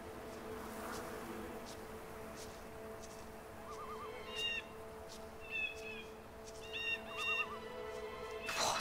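Birds call in a forest in the video game The Vanishing of Ethan Carter, several short chirps and whistled trills over a steady ambient hum, moderately near and without talk.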